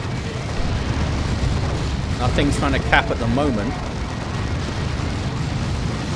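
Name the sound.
assault cannon fire and explosions, Warhammer 40,000: Dawn of War 2 video game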